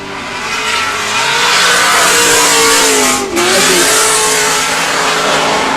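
A loud, roaring Magnuson-supercharged 620-horsepower V8 drift car engine revs hard and continuously, close and aggressive, with a brief dip in pitch midway and tyre squeal mixed in.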